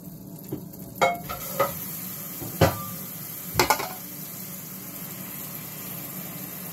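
Butter and meat fry in a pan, a soft steady sizzle broken by a few sharp clinks and scrapes of utensils against the cookware, and no talking.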